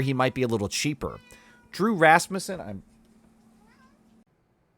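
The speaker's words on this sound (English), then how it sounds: "that was my cat who was begging for attention" A house cat meows insistently for attention, its drawn-out cries mixed in with and trailing after a man's close, steady talking.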